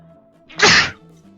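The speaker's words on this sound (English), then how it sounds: "I just sneezed" A single loud, close sneeze bursts out alone for about half a second, breaking an otherwise quiet moment with a low hum underneath.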